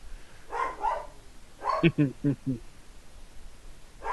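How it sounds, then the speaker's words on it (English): A black dog barks indoors in the background, a quick run of four or five sharp barks in the middle, with a person talking before and after. "My dog is barking in the background because of course she is"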